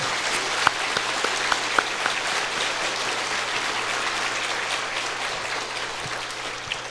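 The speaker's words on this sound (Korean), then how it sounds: "우리 호산나 찬양대 위에서 다시 한번 박수 한번 하실까요?" A church congregation at a Christmas service applauds the Hosanna choir with sustained, even clapping, a few sharper individual claps popping out early before the sound gradually eases.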